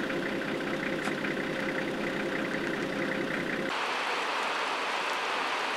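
Rain begins falling at a safari camp in Uganda, a steady broadband hiss that continues throughout, shifting in character partway as the low rumble drops away.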